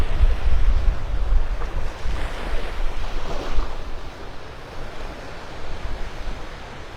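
Ocean surf rolls steadily onto Delnor-Wiggins beach in North Naples, a continuous near wash of breaking waves with wind buffeting the microphone throughout and no voices.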